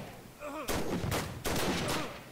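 Gunfire in a World War One video game: rapid cracking shots in two or three loud bursts over a quiet background, with no talk audible.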